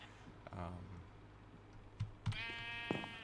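Sheep in a Minecraft-style farming game bleat several times, a few separate nasal baa calls spaced across the moment, fairly close and clear over quiet background.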